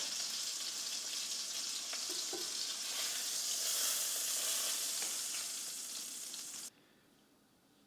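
Steak sizzling loudly in a skillet, a steady close hiss and crackle that fades slightly before stopping abruptly near the end.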